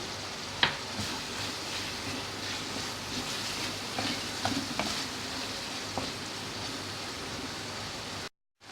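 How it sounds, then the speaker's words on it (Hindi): Minced meat frying with yogurt and tomato in a pan, a soft continuous sizzle with occasional stirring clinks and scrapes, fairly quiet and close, ending in a brief cutoff to silence. "दही डाल के भूनेंगे।"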